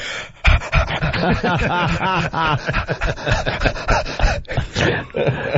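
A voice mimics a working dog's panting with rapid rhythmic huffing breaths, close and loud over several seconds.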